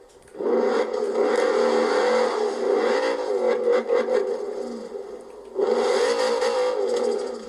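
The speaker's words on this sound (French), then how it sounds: "Franchement, le son V10." A high-revving V10 car engine in Forza Horizon 4 roars loudly, holding steady, dipping briefly, then surging again, with no voices.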